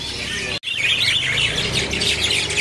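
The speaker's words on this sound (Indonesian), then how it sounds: "Ada juga burung sikatan emas trotel jantan ya. Ini burungnya sudah ngepur nih." A male golden flycatcher calls at a bird market, bright repeated chirps and tweets continuing steadily and fairly close, with a brief break early on.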